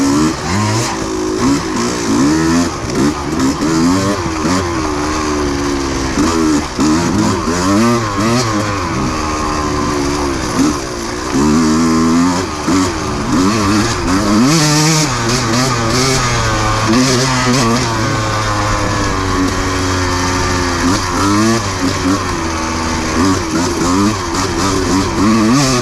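A dirt motorcycle fitted with a Rekluse auto clutch works through a rocky section, its close, loud engine revving up and down constantly in rising and falling surges as the rider throttles over the rocks, with wind buffeting throughout.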